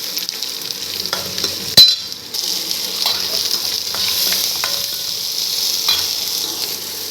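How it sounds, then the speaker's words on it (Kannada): Onion, green chillies, mustard seeds and cumin fry in hot oil with a steady crackling sizzle up close, broken by occasional stirring scrapes and one sharp clatter near the start. "ಈ ಹಸಿಮೆಣ್ಸಿಕಾಯಿ ಹುರಿದ ಮೇಲೆ ಅದಕ್ಕೆ ಈಗ ಉಳ್ಳಾಗಡ್ಡಿ ಹಾಕಿ ಅದನ್ನು ಸ್ವಲ್ಪ ಹುರ್ಕೊಳ್ಬೇಕು ನಾವು"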